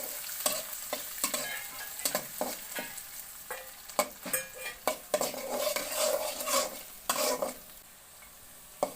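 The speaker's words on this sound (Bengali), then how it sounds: "পেঁয়াজগুলো সুন্দর করে ভাজা হয়ে গেছে" Onions frying and being stirred in a pan, a soft sizzle beneath repeated scraping clinks of a utensil against the pan at an uneven rhythm, close but quiet, with no voices.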